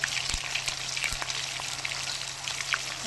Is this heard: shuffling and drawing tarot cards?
no